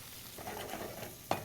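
Shrimp cooking in a pan sit in a soft, steady sizzle with light stirring, ending in one sharp scrape or clink near the end.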